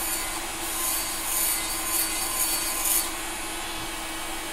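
An electric nail file bit shapes a fingernail straight, giving a quiet, continuous whirring buzz with a light rubbing grind that swells and eases slightly, heard alone.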